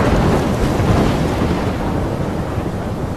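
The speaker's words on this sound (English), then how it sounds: "I'm trapped in a storm?" A thunderstorm in the video game Life Is Strange, a continuous loud wash of rain and rumbling thunder with wind, steady throughout with no talking.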